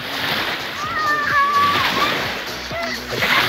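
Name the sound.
waves splashing on the shore of the Ob Sea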